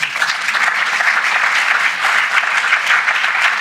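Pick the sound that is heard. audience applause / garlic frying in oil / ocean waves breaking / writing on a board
audience applause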